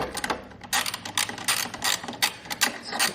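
A ratchet with a 10 mm socket clicks rapidly in short bursts while loosening an intercooler bolt on a Honda Civic Type R FK8, close up and crisp with no voices.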